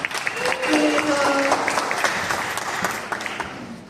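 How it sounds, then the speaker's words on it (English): Audience applause for a founder taking the stage at a Solana startup pitch event, a lively burst of clapping with a few voices over it, tapering gradually. "Please give a big round of applause to Anna Yuan!"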